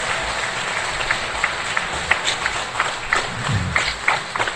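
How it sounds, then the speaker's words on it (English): An audience at a local council meeting claps and cheers in a steady, scattered burst of hand claps over a roomy crowd murmur, lasting throughout. "I would urge members of the audience tonight to refrain from clapping and cheering"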